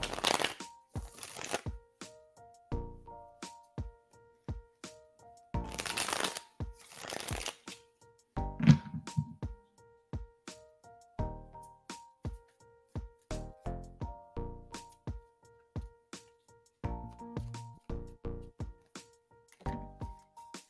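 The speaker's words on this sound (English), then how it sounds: "Let me get my cards shuffled." Tarot cards are shuffled in repeated quick riffling bursts and sharp taps, close and crisp, with pauses between rounds and a faint tonal background.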